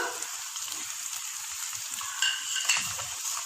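Whole cumin, salt and ground dried coriander frying in a pan, a soft continuous sizzle with scattered pops and a couple of louder crackles near the end, no voices.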